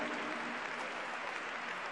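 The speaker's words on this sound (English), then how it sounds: "ne ménagez pas vos applaudissements à chaque passage" An audience applauds at a slow boogie woogie dance final in a world championship competition, a steady, dense patter of many hands clapping at moderate level, continuous for the whole stretch without speech.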